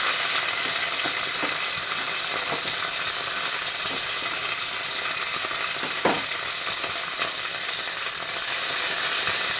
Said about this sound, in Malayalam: കിസ്മിസ് ഒന്ന് വറുത്ത് കൊടുക്കാം